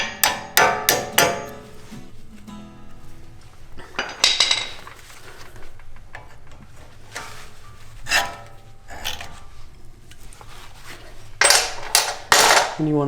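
Sharp metallic hammer strikes knock brake pad pins free on a Toyota 4Runner front brake caliper, a quick burst of loud clanging taps at the start, scattered softer knocks in between, and another loud cluster near the end.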